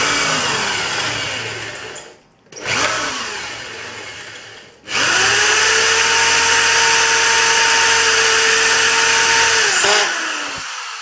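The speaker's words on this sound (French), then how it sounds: "il me faut une visseuse, j'insère donc ma vis à l'intérieur de l'entrée de clé, et puis je viens tout simplement poser ma vis" A cordless screwdriver drives a screw into the keyway of a cylinder lock, giving a loud motor whine in short bursts and then a long steady run that slows and stops.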